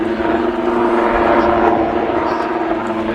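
A Lynx helicopter at an air show drones steadily as it settles into a hover, a loud continuous engine and rotor hum with a faint voice underneath.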